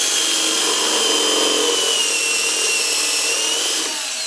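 A drill bores a blind hole in metal, producing a steady, loud, high-pitched grinding whine that runs continuously and fades slightly at the end.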